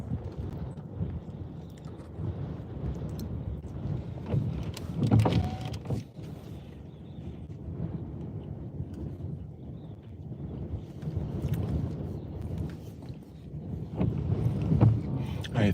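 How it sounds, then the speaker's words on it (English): A strong wind blows hard against the microphone in a steady, gusting rumble that swells in places, with a few knocks and rattles in it. "Man, that wind is crazy."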